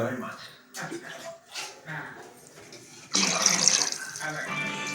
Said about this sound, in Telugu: ఐదు కప్పులు వాటర్ పోస్తామండి